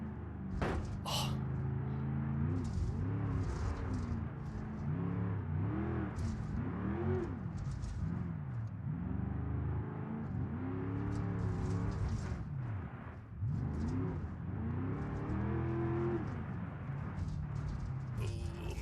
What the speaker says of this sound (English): Engine is starved of oil.